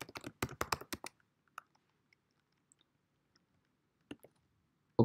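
A computer keyboard being typed on in Excel: a quick burst of crisp key clicks at the start, then sparse single taps, then a few more clicks near the end.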